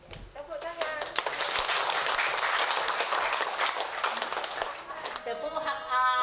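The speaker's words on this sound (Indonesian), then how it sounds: "Tepuk tangan." An audience at a festival closing in Toraja bursts into loud, steady applause that continues for several seconds, with voices speaking at the start and the end.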